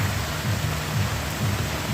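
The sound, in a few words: heavy rain falling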